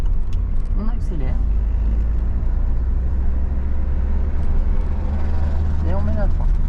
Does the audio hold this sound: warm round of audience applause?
no